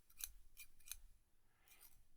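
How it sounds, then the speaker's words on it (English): Scissors snip through magazine pages in three sharp, close, distinct cuts, followed by a softer rustle of paper, all in a quiet room. "use my scissors that you all love to hear"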